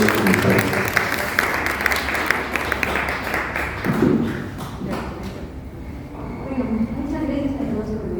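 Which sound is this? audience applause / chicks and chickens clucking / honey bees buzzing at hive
audience applause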